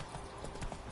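Horse hooves clip-clop in a quick, even rhythm during riding in The Witcher, fairly faint beneath game ambience.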